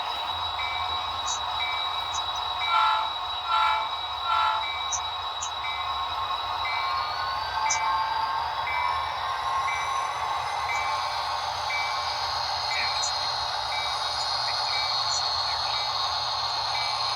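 A train being pulled out of a salvage track during railroad yard switching, heard as a steady rolling rumble with faint flange squeals and metallic clanks, moderately near and continuous with no talking.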